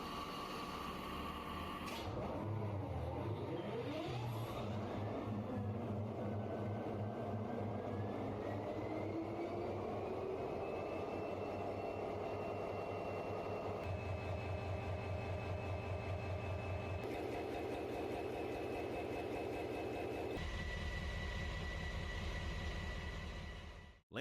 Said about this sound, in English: this Australian locomotive thunders to life